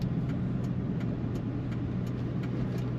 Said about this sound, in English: This car has quite the exhaust sound.